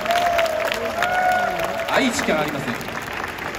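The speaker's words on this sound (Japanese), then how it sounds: "キヨサクにも一度大きな拍手お願いします。" An audience claps steadily for ukulele player Kiyosaku of MONGOL800 at the ALOHA TOKYO 2023 event, with a voice speaking over the applause.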